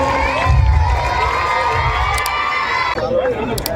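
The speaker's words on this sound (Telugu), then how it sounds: "గట్టిగా చప్పట్లు." Crowd cheering with children shouting at a Montessori English-medium school annual day celebration in Piduguralla, a loud, lively burst of excited voices from a nearby audience.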